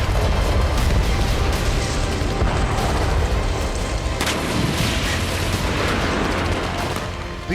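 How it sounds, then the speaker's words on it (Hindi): Heavy wartime bombardment of artillery fire, bombs and missile strikes, a dense continuous wall of rumbling booms and blasts that stays loud throughout, with a sharp burst standing out partway and no voices. "बेहिसाब बम गोला बारूद दागा गया, सीरियल मिसाइल अटैक किए गए।"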